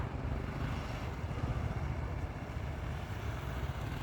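A snow scooter's steady, low engine drone runs continuously in the cold of Sweden, with wind buffeting the microphone, no pauses or changes in pitch.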